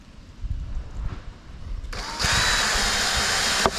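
A power drill whirs steadily into wood at close range, pre-drilling holes for nails, a loud continuous grind after a few quieter handling sounds.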